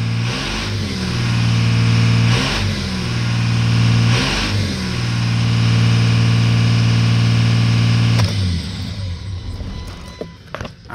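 Cummins diesel engine stuck at a runaway idle that won't drop below 2,200 RPM, revved harder several times by the gas pedal in steady close bursts, then cutting off abruptly near the end.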